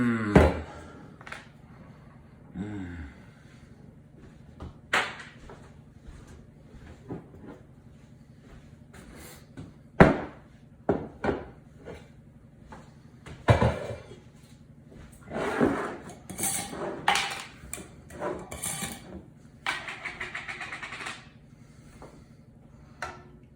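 Spoon knocking and scraping around a pot of broth with rice and deboned chicken, scattered clunks and clatters of varying loudness spaced irregularly over a quiet background.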